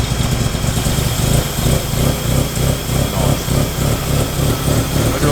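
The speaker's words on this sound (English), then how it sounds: "with the airflow unplugged and give it some throttle" A car engine revving with its airflow sensor unplugged as throttle is applied, a loud close rough drone with a pulsing, uneven rhythm and no talking over it.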